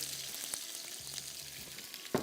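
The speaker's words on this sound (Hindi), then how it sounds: "पहले प्याज फ्राई करेंगे" Onions frying in cooking oil for a biryani gravy, a steady close sizzle with a couple of light stirring knocks.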